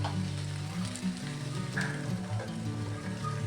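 Ivy gourd palya sizzling and frying in a pan, a continuous crackling hiss with faint stirring clinks, close and moderately loud, no talking.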